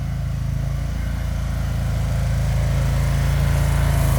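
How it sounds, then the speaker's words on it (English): A lawn mower engine drones close by, loud and steady, with no talking over it. "let me get past this mower"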